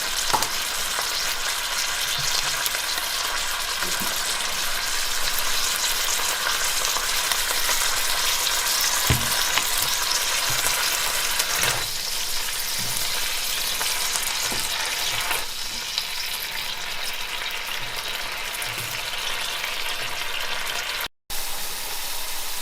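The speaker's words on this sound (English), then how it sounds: "now I'm letting it simmer for around about 15 minutes" Penne amatriciana sauce simmers and sizzles steadily in a pan, a continuous close bubbling hiss with a few scraping stir clicks, heard alone without talk.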